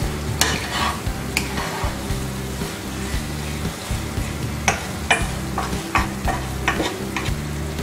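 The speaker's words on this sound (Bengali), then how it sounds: "এখন আমি একটু নেড়ে দিব" Zarda, a sweet rice dessert, is stirred in a pot. A spoon scrapes and knocks against the pot in an irregular run over a low steady cooking hum, with a few sharper clinks.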